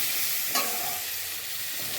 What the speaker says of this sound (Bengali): সামান্য পরিমাণ জিরে মরিচের গুঁড়ো। দিয়ে ভালো করে নাড়াচাড়া করে